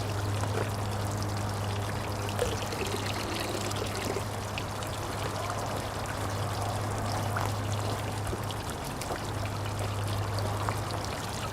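A steady stream pours into a water tank holding tap water that is being dechlorinated with vitamin C. It runs continuously and fairly loud for the whole stretch over a low constant hum.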